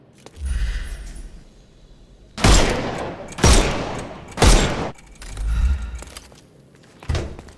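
Gunfire in Sherlock Holmes: Chapter One as enemies' armour is shot off, a series of about six loud, close blasts with booming tails, spaced roughly a second apart.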